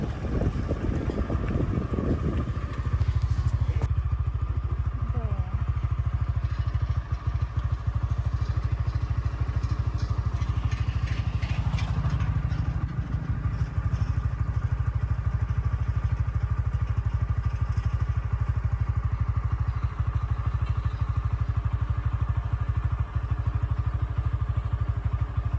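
A motorcycle riding along a bumpy dirt road through rice farmland in San Miguel, Bulacan, Philippines, with a loud, steady engine drone and heavy wind rumble throughout.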